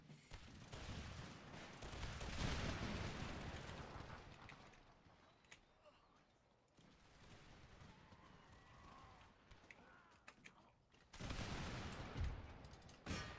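A musket volley fired on command in a video game battle: a rolling burst of many shots layered together, quiet and distant-sounding, swelling early, fading, then a second loud crackle near the end.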